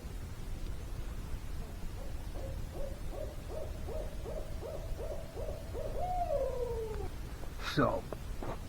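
Owl hooting about 25 feet up a tree in snowy woods beside a lake, a steady series of repeated low hoots followed by a descending call, fairly faint and distant.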